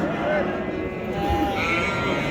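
Sheep and rams bleat amid a noisy livestock market in Asaka, with a crowd of voices talking in the background throughout.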